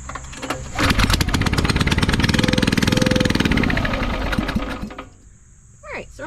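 A YardMax 35-ton half-beam log splitter's small gas engine sputters to life and runs loud and close with a rapid steady chug for several seconds, then cuts out, followed by brief chirpy sounds.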